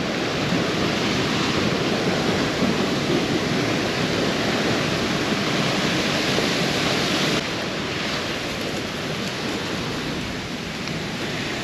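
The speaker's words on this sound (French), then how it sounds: "je pense que c'est la cascade qu'on a vue tout à l'heure" A waterfall on the Three Cascades trail in Spain rushes in a constant broad roar, loud and close for most of the stretch, then easing slightly toward the end, with no voices.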